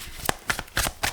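Tarot cards being shuffled in quick bursts, four crisp riffling flicks spaced roughly a quarter-second apart, close and clear with no talking.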